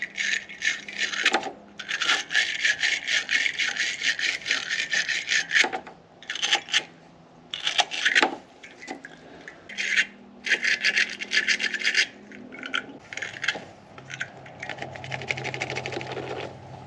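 A stiff brush scrubs the battery cables of a Subaru with continuous, rhythmic scraping strokes, loud and close, pausing only briefly between passes.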